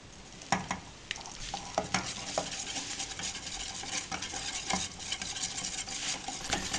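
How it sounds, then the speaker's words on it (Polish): Butter and flour stirred together in a frying pan as a roux for mushroom sauce: a steady close sizzle with repeated scraping strokes of the utensil against the pan, no voices. "rozpuszczamy masło na patelni i dodajemy około 2 łyżki mąki. Dodane składniki dokładnie mieszamy"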